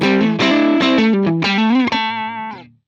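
A dry electric guitar played through a Helix Matchstick Channel 1 amp model on the neck pickup rings out a few strummed and picked chords, bright and clean with slight grit, decaying at the end.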